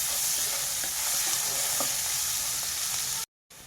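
Chopped green chillies, with ginger, stirred and frying in hot oil for a hotel-style dal tadka, giving a steady loud sizzle with scraping stirs, then a brief silent gap near the end.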